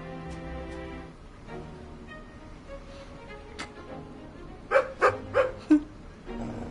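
A dog barks four times in quick succession in the video game Bilkins' Folly, fairly close and loud, after a quieter stretch of game music and ambient sound.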